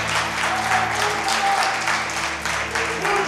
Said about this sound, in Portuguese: Você pode aplaudir o Senhor bem forte, meu irmão? Aplauda bem forte.